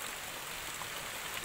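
Heavy rain pours steadily as Cyclone Dana approaches, a dense unbroken hiss of falling water with faint wind mixed in.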